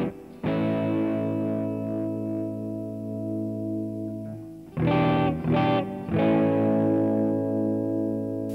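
Electric guitar through a Yamaha THR5 practice amp with subtle distortion and reverb, sustained chords ringing out, then a few quick strummed stabs, and another chord left to sustain and decay.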